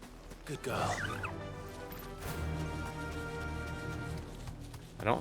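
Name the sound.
birds in Final Fantasy XVI video game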